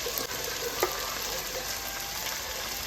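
Chicken dropped into gravy frying in a pan gives a steady, close, hissing sizzle with a couple of faint knocks from a utensil early on, with no talking.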